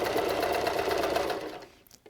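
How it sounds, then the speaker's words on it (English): A sewing machine runs a regular straight stitch down the side of a reusable fabric face mask, a dense steady whir close by that carries on for nearly two seconds and then stops abruptly, leaving near silence. "Now we're going to sew down the side. This is just a regular straight stitch,"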